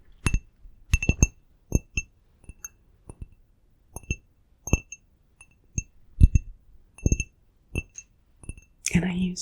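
A drinking glass is handled and clinked, giving a series of sharp, bright taps and rings at irregular intervals, close and delicate, against a quiet background.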